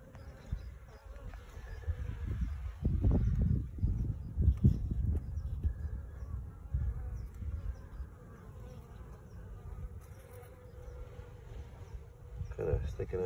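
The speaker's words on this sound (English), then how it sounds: "it's full of bees feeding." Honeybees fill a barrel beehive whose comb is heavy with nectar, a dense low hum running steadily throughout and swelling louder for a few seconds early on, close to the microphone.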